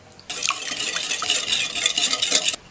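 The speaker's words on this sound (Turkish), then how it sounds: "iyice karıştırıyorum" Meat and vegetables stirred with water and about two tablespoons of olive oil in a baking tray, giving a steady wet scraping and slushing for a couple of seconds, close and fairly loud with no talk.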